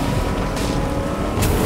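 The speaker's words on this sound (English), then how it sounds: "What is wrong with this boat?" Motorboat engine drone from a boat being driven in the video game Fortnite, a steady loud rumble with brief whooshing bursts of spray or wind, no talking.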